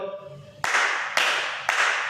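Hands clap three times, sharp and evenly spaced about half a second apart, loud and close, following a moment of faint background voice.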